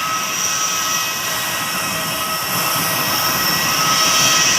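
Jet airplane noise at Dipolog Airport, a steady loud roar and whine of engines close by, continuous and slowly swelling toward the end.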